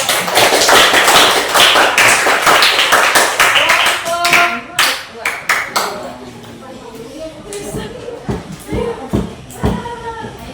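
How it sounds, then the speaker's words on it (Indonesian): A school class claps together in a sustained burst of applause, then it breaks into scattered, uneven claps and taps with some voices mixed in. "Kasih tepuk tangan untuk"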